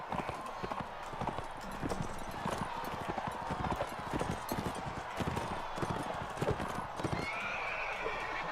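Galloping horse hooves clip-clop rapidly and steadily in a medieval battle in Mount & Blade: Warband, with a horse neighing amid the busy combat din and a voice talking over it.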